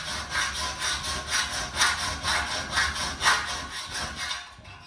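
A handsaw cuts a shallow relief kerf partway into plastic trunking with steady, rhythmic back-and-forth strokes, close and fairly loud, about two strokes per second, then stops.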